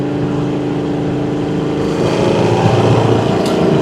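A 1972 Chevrolet Chevelle cruises at around 60 mph near 3000 RPM, giving a steady, loud interior drone of engine and road noise with a slight swell partway through and no talking.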